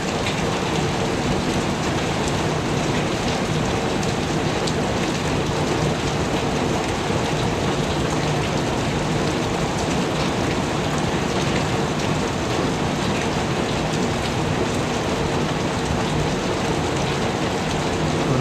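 Steady, heavy rain pours behind a hotel room, a dense continuous hiss of rain on surfaces that stays loud and unbroken throughout, with no voices.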